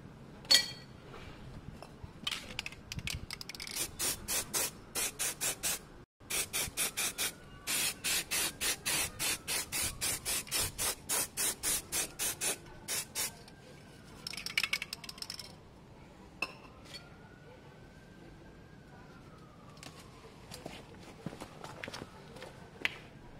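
Brake cleaner sprayed onto a Yamaha Fazer 600 motorcycle in rapid short hissing bursts, many quick repeated spurts, then scattered longer hisses and a few faint clicks, close by.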